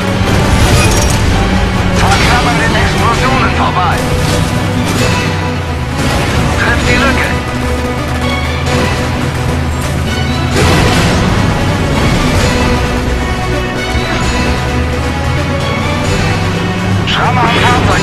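Dense, loud soundscape from the game Stuntman: Ignition with repeated booming explosions and rumbling bursts layered over vehicle engine noise and music, continuing without pause.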